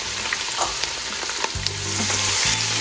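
Diced onion, curry powder and thyme hit hot oil in a pan for a cucumber stew, giving a loud, close, steady sizzle with a few light stirring taps and no talking.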